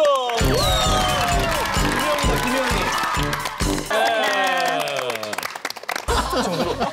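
Studio audience applause and cheering on a Korean live talk show, a dense, loud wash of clapping that runs throughout, with voices and harmonic music-like tones layered over it.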